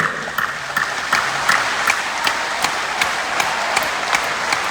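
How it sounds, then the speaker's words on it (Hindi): An audience at a business seminar in a Delhi stadium claps steadily, a rough rhythmic pattern of claps with a dense crowd wash underneath, no talking. "तालियां मारिए जोर जोर से"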